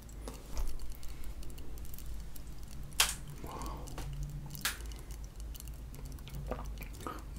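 Homeplus cheese-loaded Chicago pizza is chewed close to the mic, soft wet munching and a few sharper bites over low background noise.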